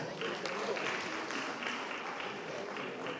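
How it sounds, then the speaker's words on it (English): Steady applause from an audience at a parish anniversary celebration, honoring students, filling the whole stretch at moderate loudness with a faint voice mixed in. "So let's give them another round of applause"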